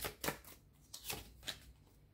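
Tarot cards being shuffled in a quiet room, several short riffling bursts about half a second apart with soft gaps between them.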